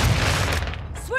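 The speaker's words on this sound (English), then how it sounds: "Throwing flash grenade!" A flash grenade goes off in Call of Duty: Modern Warfare II, a loud low boom at the start that fades into a ringing, muffled wash with rising whistling tones near the end.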